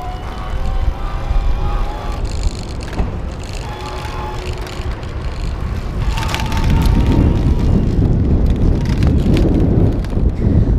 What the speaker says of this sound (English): Little bit of rattle going on there with some of the fenders